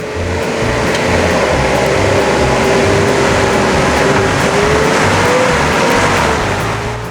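A stock-standard 4WD with worn-out suspension and a nearly open limited-slip diff climbs a steep track in Bunyip Forest. Its engine drones loud and close under heavy load, the pitch wavering as it labors steadily uphill.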